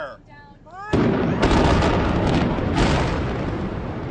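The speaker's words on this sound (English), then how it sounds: "That's the sound of 22 million pounds of steel coming down in a controlled blast." Steel spans of the Kosciuszko Bridge between Brooklyn and Queens, 22 million pounds of steel, come down in a controlled demolition blast: a sudden massive boom followed by sustained rumbling and cracking explosions.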